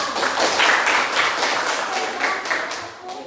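A room full of people claps steadily for several seconds, a dense, even patter of applause that tapers slightly toward the end.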